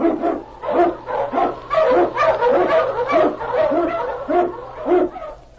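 Eskimo sled lead dog barking, a rapid series of close, loud woofs and yips in an uneven rhythm, with a low steady hum in the background.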